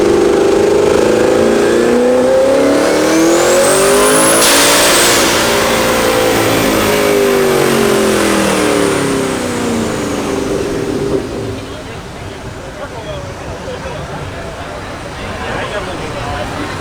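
Mustang cars revving hard on a dyno at an outdoor car event, engine note rising and falling in loud sweeping bursts, with a whistling pitch sweep mid-way, then settling into a steadier roar amid crowd chatter and background noise.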